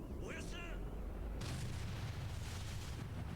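A grenade detonates in the Yakuza game Dynamite of Dojima, a broad low boom that swells partway through and rumbles on with a noisy roar, following a brief voice at the start.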